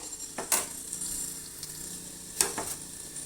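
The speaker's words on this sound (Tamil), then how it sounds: "கடுகு உளுத்தம்பருப்பு போட்டுக்கலாம். நல்லா பொரியட்டும்." Mustard seeds and urad dal spluttering in hot oil for a bitter gourd pachadi: faint, quiet sizzling broken by a few sharp, sporadic pops.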